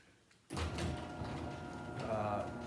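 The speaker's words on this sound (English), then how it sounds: "hear that noise? That's the sprocket" A sudden mechanical rumble kicks in and keeps grinding with rattling, squeaky strain as a garage door opener's worn sprocket labors under a heavy door.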